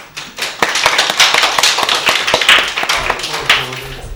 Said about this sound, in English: So give Marv a big round of applause.